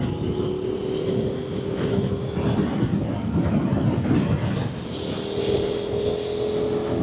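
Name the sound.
KTM 1290 Super Adventure R motorcycle riding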